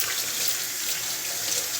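Cool tap water runs steadily from a faucet over drained black beans in a kitchen sink, a continuous, fairly even hiss and splash with no talking.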